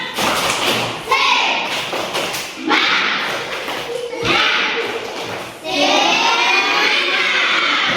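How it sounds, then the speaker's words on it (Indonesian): Group of children performing a rhythmic spirit clap routine in a classroom session. Bursts of clapping and patting alternate with short pauses, accompanied by children's chanting voices, fairly close and loud. "Tepuk semangat."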